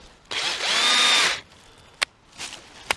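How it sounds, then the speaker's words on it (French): A power drill whirs loudly for about a second as it bores into a birch tree trunk to tap sap, followed by a few short knocks and scrapes. "Donc là je prends une perceuse,"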